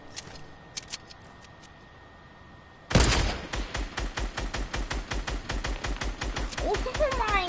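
Gunfire in a PS4 game erupts suddenly after a quiet stretch, a rapid, steady string of sharp shots rattling on loud and close for several seconds, with a few faint clicks before it starts.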